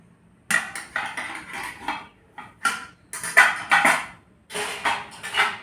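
A heavy, thick steel idli maker rattles and clanks in short, loud bursts of metallic knocks and scrapes as it is picked up and handled, with brief pauses between them.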